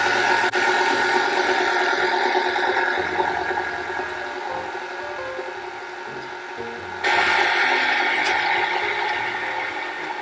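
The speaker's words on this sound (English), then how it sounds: "This is my mixer. Everything kind of gets stuck at the bottom." An electric mixer running on a low setting, beating cake batter for a key lime pie cake: a steady, loud mechanical whir with a rattling edge, continuous and close, shifting slightly in tone partway through.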